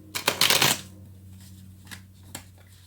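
Tarot cards being shuffled for a reading, a dense riffling burst near the start followed by a few faint, isolated card flicks and taps, close and clear with no talking.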